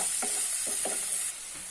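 Chillies frying in hot oil for a long bean and coconut curry, with a steady high sizzle and a few soft stirring scrapes spread through the short stretch, no talk.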